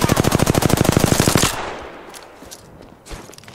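Rapid automatic gunfire in the video game Apex Legends, a loud sustained burst of evenly spaced shots that cuts off abruptly and leaves a few faint scattered clicks and thumps.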